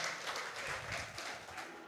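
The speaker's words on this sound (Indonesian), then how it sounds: "tepuk tangan buat ABJI Jakarta" An audience at an APJII Jakarta Christmas and New Year event claps together in a steady, dense wash of applause that holds at moderate loudness throughout, with no talk over it.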